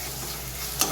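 A spoon mixes a sour, spicy Chinese-style chicken fry sauce with a little sugar in a hot pan, giving a brief soft sizzle that ends in one sharp scrape near the end.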